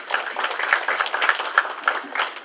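Audience applause at a campaign kickoff rally for Choi Seok-ho's run for California's 37th district state senate seat, a dense patter of many hands clapping steadily throughout without pauses.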